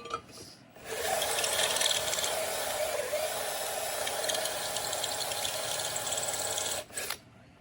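A step drill bit bores through steel for a bumper-mounted vise, a sustained loud grinding, rasping whir running about six seconds before cutting off, with a brief burst near the end.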